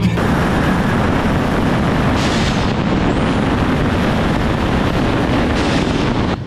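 A Pontiac Fiero with a swapped 3800 V6 making 400 horsepower roars hard under acceleration, a loud sustained engine blast heavily buffeted by wind noise from inside the car.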